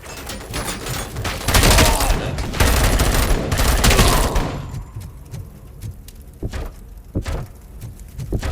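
Gunfire from the Robocop video game: a dense burst of rapid shots for a few seconds, then scattered single loud reports and thuds against a quieter background.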